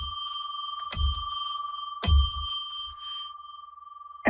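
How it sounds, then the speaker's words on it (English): A handbell is struck three times in a quiet room, each ring sharp and clear with a sustained metallic tone lingering between strikes, opening a live psychic radio broadcast. "I'm going to ring a bell 3 times to declare that we are now entering sacred space."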